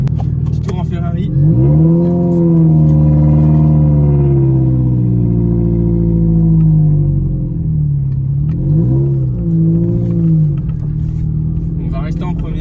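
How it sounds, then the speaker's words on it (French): A Ferrari with a straight-through exhaust pulls away in first gear, its loud, close engine note rising and falling through revs over a steady rumble. "Petit tour en Ferrari"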